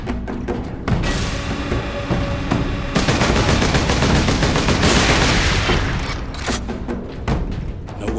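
Gun turrets in Space Marine firing nonstop, a dense rapid rattle of automatic gunfire with heavy thumps, loud and close, building to a sustained barrage before easing slightly.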